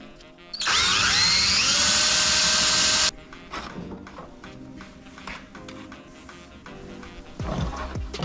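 A power drill boring a hole through an expensive Akrapovic motorcycle exhaust to remove the dB killer: a loud, high, whining grind for about two and a half seconds, then clinking, handling noises.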